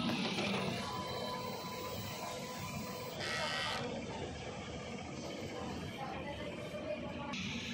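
A DTF printer runs its cleaning cycle with a faint, steady mechanical hum and whir, broken by short bursts of louder hissing and clicking from the printhead mechanism.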